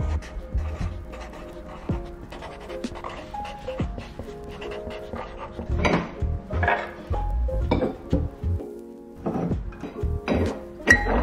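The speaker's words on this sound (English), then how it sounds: "I literally just threw spoons and stuff into here" Spoons and other loose cutlery clinking and knocking inside a packed moving box, scattered close metallic taps and thunks with some shuffling handling noise, uneven and intermittent.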